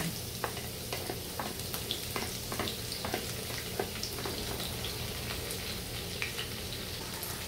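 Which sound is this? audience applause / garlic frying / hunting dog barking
garlic frying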